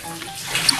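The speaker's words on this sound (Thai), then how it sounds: "แรงดันน้ำนี่นะคะประมาณนี้นี่คือ เร่งน้ำสุดแล้วนะคะ" An ordinary household shower head sprays water at full pressure, giving a steady, dense rushing hiss throughout with no voices.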